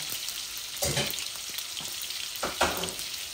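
Tilapia fish frying in oil in a pan, a steady low sizzle with a few louder crackling bursts as the pieces shift, close and unaccompanied.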